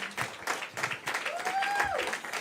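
Audience applause and hand clapping at a talk on constitutional sex equality, a dense steady burst of clapping with a brief tonal whistle-like sound rising through the middle, moderately loud throughout.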